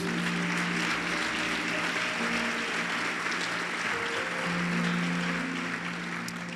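A church congregation applauding the Lord Jesus during a sermon, a steady wash of clapping from a crowd in a large room over a low hum of sustained music.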